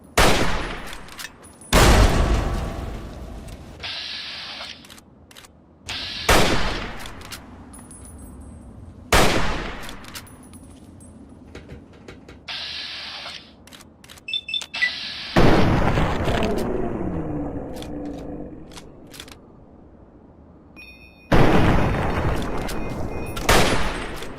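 Loud gunshots and explosions burst out in Fallout 3 combat near Rivet City, sharp isolated blasts spaced several seconds apart with quieter echoing tails between them, almost no talking.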